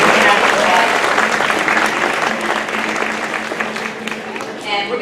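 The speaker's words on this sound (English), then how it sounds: "let's give them a round of applause" Audience at a school strings concert claps loudly and continuously, a dense burst of applause that slowly thins and softens toward the end.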